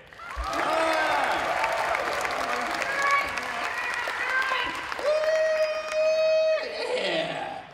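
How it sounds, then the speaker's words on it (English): Audience applause for a ventriloquist act, steady and fairly loud, with cheering and whistles rising partway through and voices mixed in before it fades. "A big round of applause for Alfred."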